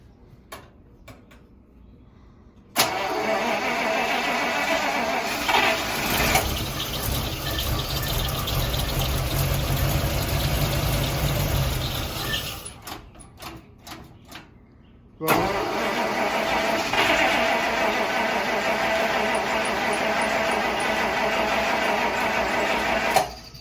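A 1948 Buick Roadmaster Woodie Estate Wagon engine being brought to life with fresh fuel, cranking and then running steadily close by for several stretches. It cuts out briefly near the middle and starts running again.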